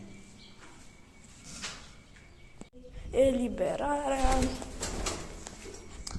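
German gull fancy pigeons coo in a loft, their soft rising and falling calls clustered in the middle of the stretch while someone talks nearby.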